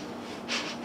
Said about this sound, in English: To sniff